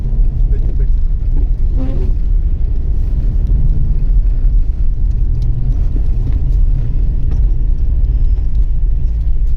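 A Subaru car drives past on a road, a loud, close engine rumble and tyre roar that swells and lingers, with people talking nearby.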